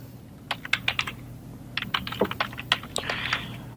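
Keys on a computer keyboard tapped while entering text in Photoshop, a quick burst of clicks, a pause, then another run of light, close taps over a steady low hum.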